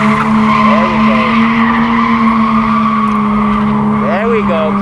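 A drift car at Achna speedway in Cyprus holds a loud, steady engine drone while its tires squeal in sliding skids, with rising and falling whines throughout. Voices talk over the engine noise.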